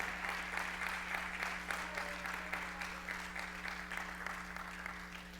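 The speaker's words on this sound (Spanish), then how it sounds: "Déselo fuerte ese aplauso, porque yo le aplaudo al Señor en esta mañana" Congregation clapping during a Sunday morning church service, a fairly faint but continuous spread of many hands over a steady low electrical hum, the claps rising and falling slightly.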